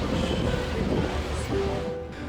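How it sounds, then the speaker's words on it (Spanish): A boat rides on the River Seine in Paris, with water washing and churning steadily close by under a broad rushing wind-like noise that holds fairly loud throughout. "Nos tocó subirnos a un barquito que venía incluido con el pase de Louvre."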